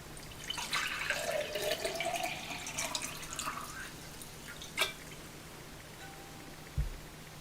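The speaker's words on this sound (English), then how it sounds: "We're going to start by filling our glass up almost all the way with water." Tap water pouring into a glass, with a rising tone as the glass fills up, followed by a couple of soft thumps near the end.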